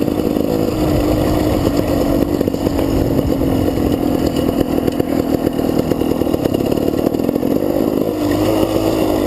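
A GasGas dirt bike engine revs continuously while riding, a loud, close, buzzing two-stroke-like drone with rapid pulsing throughout.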